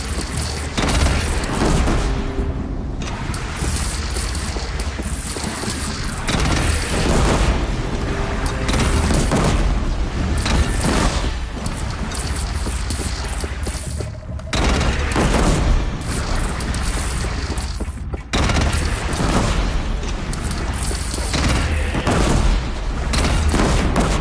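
Cannon fire and explosions in the video game Horizon rumble in a dense, continuous barrage of heavy booms and crackling blasts, loud and close, with sharp drops between some impacts and no clear talk.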